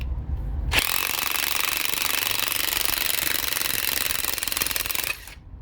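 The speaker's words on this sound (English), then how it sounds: "An impact socket will save you a ton of time because otherwise you will be very struggle to remove this guy." An impact wrench with an impact socket removes a car shock absorber bolt, hammering loudly and continuously for about four seconds with abrupt start and stop.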